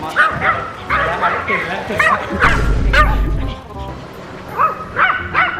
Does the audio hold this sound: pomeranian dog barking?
yes